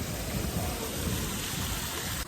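Heavy rain pours down steadily in 30-degree heat, a dense loud hiss with a low rumbling undertone running continuously and unbroken throughout.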